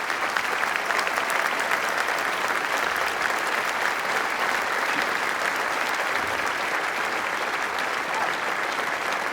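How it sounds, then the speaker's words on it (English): Sustained, loud crowd applause fills a competition hall as the second-place team of an engineering contest is honored, steady clapping throughout with no break. "Second place team, let's give a very big round of applause."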